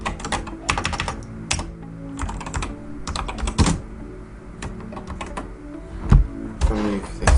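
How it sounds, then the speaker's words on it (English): Rapid clattering keystrokes on a computer keyboard at a desk during setup of a Windows virtual machine, bursts of close, dry clicks with short pauses, no talking. "I'll move this keyboard down here a bit so it's not so noisy."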